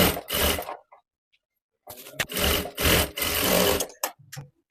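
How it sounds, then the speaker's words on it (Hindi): Sewing machine double stitching a folded blouse edge, several short close bursts of rapid whirring separated by pauses and brief stops, with no talking. "मैं इसमें डबल सिलाई लगा रही हूँ"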